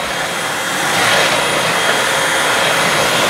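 Dyson V12 Detect Slim cordless vacuum cleaner running with a loud, steady high-pitched whirring roar, close and continuous without pause.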